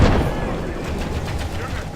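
Musket and gunpowder volleys ring out from troops on a battlefield in the medieval strategy game, a loud burst up front followed by a scattered crackle of further shots.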